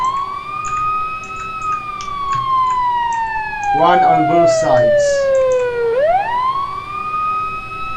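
A police helicopter siren, Eurocopter AS350 Ecureuil, in a flight simulator video game: a loud, slowly falling electronic wail that sweeps back up near the end, with brief talk over it midway.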